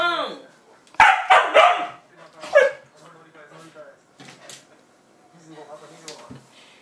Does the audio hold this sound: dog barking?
yes